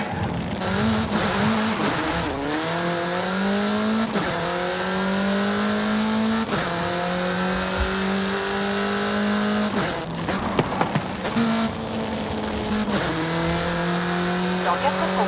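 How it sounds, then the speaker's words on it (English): A car accelerates at speed in Forza Horizon 5, the engine revving up through repeated gear shifts with rising pitch, loud and close, with occasional tire noise and talk over it. "Get some speed, then turn into the countryside."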